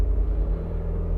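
A Jeep Renegade 1.8 flex engine with six-speed automatic held in a transmission stall test gives a loud, steady low rumble close by, strained and unchanging for the short moment.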